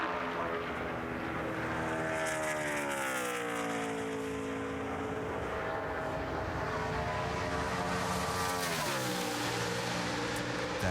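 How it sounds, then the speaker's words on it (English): A NASCAR race car screams around the Indianapolis track during 2012 Brickyard 400 qualifying, its engine note loud and sustained with rising and falling pitch as it runs its lap, a commentator speaking over it. "Out on the track in the 98 car, Reed Sorensen is on the bubble"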